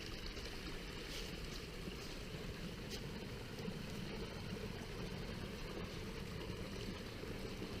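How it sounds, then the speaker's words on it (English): A small stream babbles steadily through a winter cow field among exposed tree roots, a faint continuous wash of trickling water with no voices. "It's like a babbling brook."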